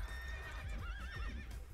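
Horses in Age of Empires 2: Definitive Edition neigh with a rising and falling whinny over quick clip-clopping hooves in a short, fairly quiet game burst.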